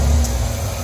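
A car engine idles steadily after a TFI module relocation refit, a low continuous hum in the background with no speech.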